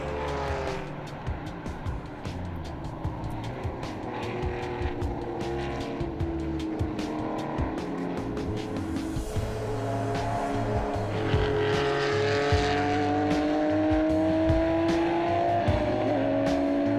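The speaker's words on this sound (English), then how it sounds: "an RSR number 82, along with Michel Lecour, Raymond Narak starts from pole and shows he's in the mood to dominate his competitors" Porsche RSR race cars at the Spa Classic historic race roar past in a continuous engine drone, with rising and falling whine as they pass and brief tire squeal.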